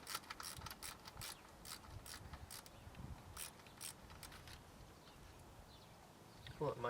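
Quiet, close ratchet clicks in short repeated bursts removing a 7mm bolt near the thermostat of a GM 3800 engine, with a few pauses and faint handling noise, and a louder metallic rattle at the end.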